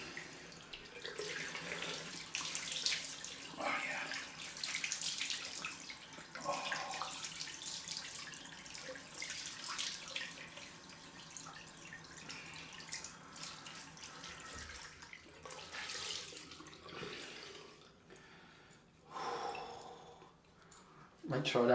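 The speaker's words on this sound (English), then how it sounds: "Cold rinse time." A bathroom tap runs for a cold rinse after a wet shave, a steady faint splashing stream with hands moving through the water, stopping briefly near the end.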